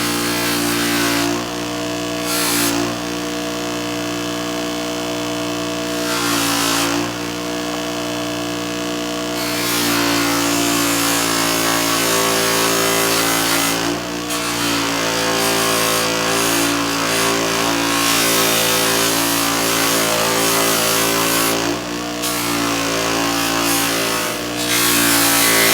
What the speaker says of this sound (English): That gives you an idea of what the polishing wheel can do.